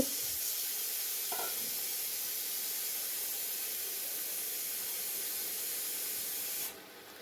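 Large pieces of vegetable fry in oil on a home stove, giving a steady broadband sizzle that holds evenly for most of the stretch, with a brief clink early on, then drops away near the end. No one speaks.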